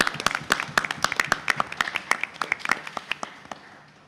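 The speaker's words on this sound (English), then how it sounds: "So just a quick round of applause." Audience applauds at a solar car unveiling event, a round of sharp, distinct hand claps that starts fairly full and quickly thins into sparser, fading individual claps over a few seconds.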